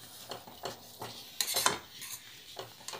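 Vegetable upma being stirred in a pan, with a spoon scraping and clinking against the metal in several short strokes, close by, no talk.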